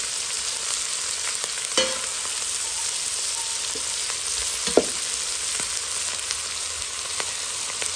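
Onions frying in a pan: a steady, dense sizzle throughout, with a few sharp clicks and scrapes from stirring, close and alone without talk.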